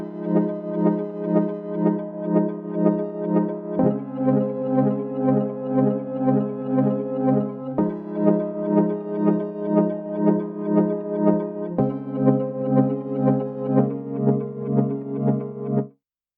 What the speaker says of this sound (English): This is still the abstract harps pattern.